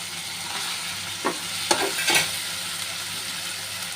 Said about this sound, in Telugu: ఇక్కడ గుడ్డు వేసేస్తున్నాను.